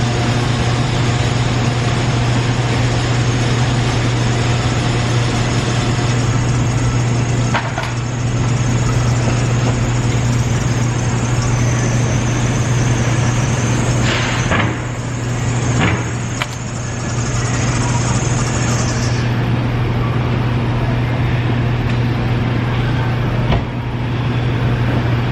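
A 2007 Chevy Colorado's 2.9L four-cylinder engine runs steadily at idle with a noisy serpentine belt, giving a continuous droning hum and a faint whine up close.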